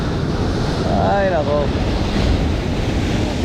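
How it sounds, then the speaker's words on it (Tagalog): Strong sea waves surging and churning at sea in heavy rain, a dense continuous roar of surf and wind buffeting the microphone, with a brief voice exclaiming over it. "Grabe lakas ng alon."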